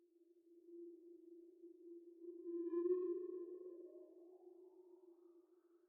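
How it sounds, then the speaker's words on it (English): Polar atmosphere drone synthesized in Serum from noise through a resonant, driven bandpass filter swept by an LFO, a steady low hum with a whistling filtered tone rising and swelling in the middle, then easing off, alone. "The polar atmosphere is made in Serum."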